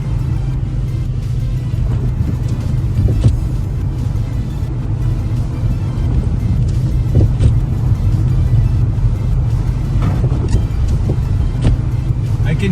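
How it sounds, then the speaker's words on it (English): A sedan on winter tires drives through a Canadian snowstorm, its steady low road rumble and tire roar running continuously and fairly loud throughout, with a few faint brief ticks on top. "I can hear my winter tires struggling and fighting the snow"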